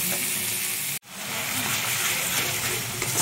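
Fish kofta gravy sizzles loudly in a pan as it is sautéed with sugar, a dense close frying hiss that cuts out abruptly for an instant near the start, then resumes steadily.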